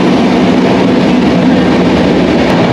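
Steady, loud rumble and rattle of an Indian passenger train at speed, heard from inside sleeper coach S7 on a long journey in Assam, continuous and unbroken throughout with no voices.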